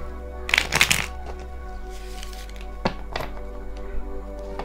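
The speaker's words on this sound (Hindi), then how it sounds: "मेरी हाथ इतनी छोटी है ना, तो मुझे शफल करने में थोड़ी सी प्रॉब्लम हो जाती है" Cards are shuffled by hand by someone with small hands: a couple of quick riffling bursts near the start, then sparse soft taps and shuffles against a steady low background hum.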